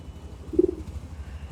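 A single soft, low pigeon coo sounds briefly against a faint background hum.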